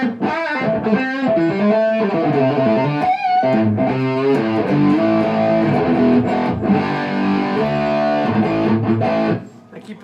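Distorted electric guitar chords and riffs from a Korean-made Epiphone played through a Coupe 72 amplifier, loud and sustained, ending with a brief fade.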